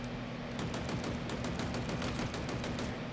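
Rapid automatic gunfire from bots in Halo Infinite's practice mode, a steady stream of evenly spaced sharp shots with no break, over a constant low hum.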